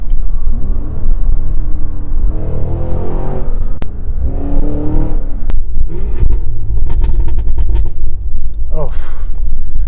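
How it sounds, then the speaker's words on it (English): A Cadillac Escalade V-Blackwing SUV engine rumbles steadily with a deep exhaust throb, swelling in brief revs, while a person talks over it. "so you can hear the exhaust a little bit more"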